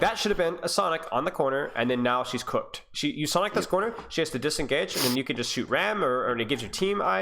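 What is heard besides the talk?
No distinct noise like a dog, phone or traffic.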